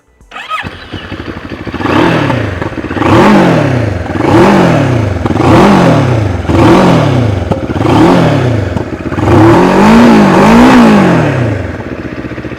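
A Moto Morini X-Cape 650 parallel-twin motorcycle starts up and is revved repeatedly, about seven loud, close throttle blips rising and falling in a steady rhythm over an idling engine, with a longer double rev near the end.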